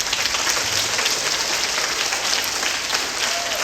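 A school audience of primary pupils applauding a student presenter, a dense, even wash of clapping hands sustained throughout at close range, with faint voices mixed underneath.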